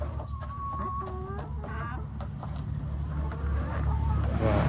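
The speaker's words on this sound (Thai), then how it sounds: "จากแม่ไก่อารมณ์ดีนะครับ" Hens cluck repeatedly in short, rising calls over a steady low hum, close by and fairly loud, with a rooster-like call near the end.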